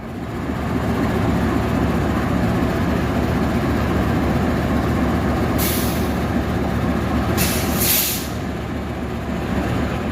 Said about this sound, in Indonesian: kita nikmati dulu perjalanan dengan kereta api Malabar